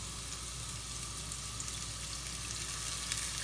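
Onion, garlic and green seasoning sizzling in a pan while cooking a Caribbean curry liver dish, a steady, dense crackling hiss that stays even and close throughout.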